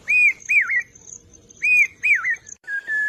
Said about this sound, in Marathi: भात शेतीच्या मळ्यावर पावसा पक्षी त्याच्या मधुर स्वरात जणू पेरते व्हा पेरते व्हा